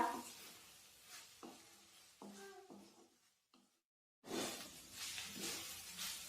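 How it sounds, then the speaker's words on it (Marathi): Dry fenugreek leaf bhaji with peanuts cooking on a low flame and stirred now and then: soft, close scraping and rustling strokes with a faint sizzle, a short near-silent gap, then a louder burst of frying hiss. "आपण आता भाजी कमी गॅसवर छान शिजवून देऊया। मध्ये मध्ये आपण भाजी हलवून घेऊया।"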